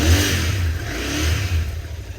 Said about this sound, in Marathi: रेप देता बघा, आवाज येतं का